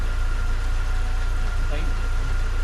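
A BMW Z3 engine idling smoothly up close, a steady low rumble with an even pulse and faint whine, running continuously under a brief voice.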